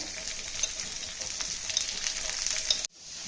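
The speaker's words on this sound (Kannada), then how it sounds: "ಈಗ ನೋಡಿ ಚೆನ್ನಾಗಿ ಈ ರೀತಿ ಅದನ್ನ ಹುರ್ಕೊಂಡು ಸಿಪ್ಪೆ ಒಂದು ಸ್ವಲ್ಪ ಬೆಂದಿದೆ" Small pieces of salted cucumber peel fry and hiss steadily in a pan, with light stirring scrapes throughout, before the sound cuts off abruptly near the end.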